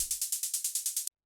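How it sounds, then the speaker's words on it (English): Dark techno percussion: white noise through a bandpass filter chops into about ten short, hissy bursts in straight 16th notes, each fading quickly before the next, then cutting off abruptly. "It's just a bit of white noise going into a bandpass filter"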